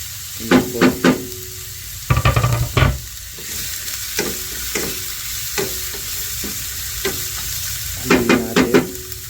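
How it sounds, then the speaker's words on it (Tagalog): Garlic and chopped onion sauté in oil in a pan, a constant sizzle broken by loud bursts of stirring and scraping at the start, middle and end. "Habang ginigisa-gisa natin yung garlic. Lalagay na yung sibuyas."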